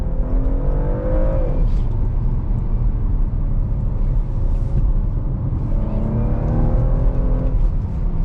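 A 2022 Porsche Macan S accelerates from inside the cabin, its engine rising in pitch through two gear pulls over a steady, loud road and engine drone.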